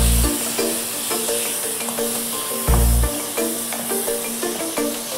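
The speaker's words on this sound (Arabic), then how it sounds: "البصل والثوم واللحم تقليهم مع بعض" Onion, garlic and meat frying together in a pan give a steady, close sizzle, with occasional scrapes and a couple of low thumps.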